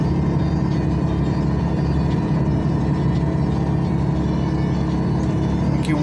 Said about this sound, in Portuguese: Começa a forçar o caminhão.